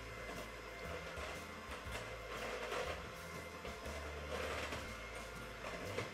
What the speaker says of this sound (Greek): θα βάλουμε το μίξερ.